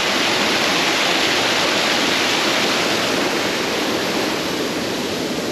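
Cold mountain stream water rushes near the Kargah Buddha cave, a loud, unbroken roar of close whitewater with no voices.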